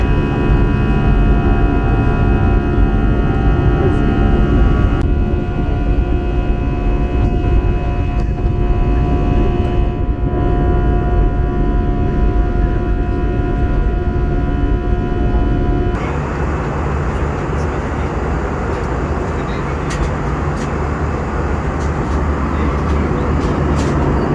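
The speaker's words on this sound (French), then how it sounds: "L'équipage procède à la rentrée des volets." Steady, loud cabin roar aboard a Lufthansa Airbus A340 in flight as the flaps retract, a constant engine and airflow drone with tonal whine that shifts partway through.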